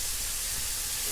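Onions lightly frying in a pan give a steady, soft sizzling hiss that runs unbroken the whole time, with no other sound over it.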